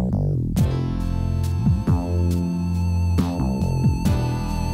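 Steady melodic Streets of Rage end-credits music plays without vocals, with sustained synth-like tones and plucked notes over a full, even backing.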